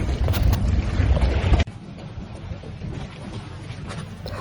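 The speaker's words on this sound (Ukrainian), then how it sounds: "Тільки чутно плескіт хвиль о пристань." Waves splashing against a pier in Venice beside moored boats, mixed with wind buffeting the microphone. The sound is loud and gusty for the first second and a half, then settles into quieter lapping water.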